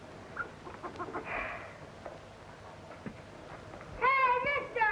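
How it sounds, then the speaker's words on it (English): A hen clucks in a quick, warbling burst near the end, following quieter indistinct sounds and faint movement. "that's our hen"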